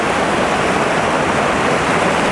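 A loud, steady roar of rushing water from Shypit waterfall in Zakarpattia, continuous broadband hiss with no other sounds.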